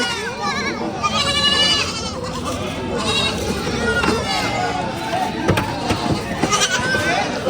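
Several goats bleat repeatedly in a busy outdoor livestock gathering, wavering cries rising over a crowd of people and children talking nearby.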